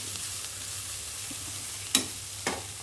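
Carrot and beans poriyal cooks in a pan on a stove turned down to a simmer, a soft constant sizzle and hiss broken by two brief stirring scrapes near the end.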